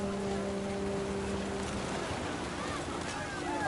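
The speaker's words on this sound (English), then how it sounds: "The rain came down in buckets then" Heavy, steady rain pours down in What Remains of Edith Finch, a constant close wash of rainfall with a faint low tone fading out early on.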